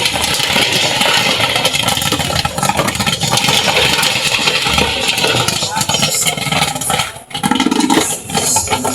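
Milky popcorn keeps popping in a manually stirred popcorn machine on a gas flame, giving a busy, close crackle of bursts that briefly drops out near the end before the crackling resumes.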